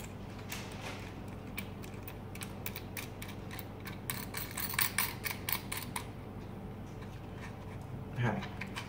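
A nut is screwed down tight on a BB auto part phone mount, making a run of quick, close mechanical ticks and clicks that come in irregular bursts while someone talks.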